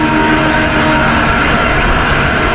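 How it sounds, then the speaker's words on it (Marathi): A passenger train on a rainy day rumbles loudly and steadily as it pulls out, a dense continuous roar heard from inside a carriage with no talk. "फायनली म्हणजे आपण ट्रेन सुटली आहे"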